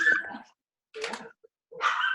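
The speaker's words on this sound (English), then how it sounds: "Is that Bailey barking?" A dog named Bailey barking in three sharp, separated bursts at moderate distance, with short silent gaps between them and no talking.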